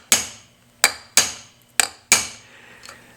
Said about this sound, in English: I hit with the hammer.